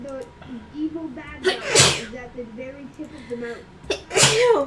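Two sharp, loud sneezes burst out close by amid casual conversation during a tabletop role-playing game session, with people talking before, between and after them.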